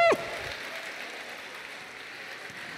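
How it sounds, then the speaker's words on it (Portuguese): Church congregation applauds during a Portuguese sermon, a soft, steady wash of clapping at a distance that follows a brief shout from the preacher. "Você pode aplaudir o Senhor por isso ou não?"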